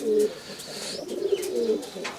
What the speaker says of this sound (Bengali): কারো যদি লাগে এটা কবুতরটা নিতে পারেন সমস্যা নাই ভালো কবুতর